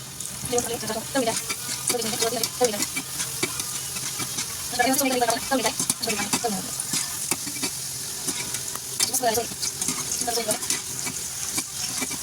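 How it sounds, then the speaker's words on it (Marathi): Modak dumplings fry in hot oil in a kadhai, giving a steady close sizzle with faint stirring, while a voice talks softly underneath. "आता मोदक तळून"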